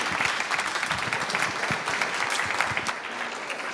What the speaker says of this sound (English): Let's give our panel a round of applause as a thank you for their time.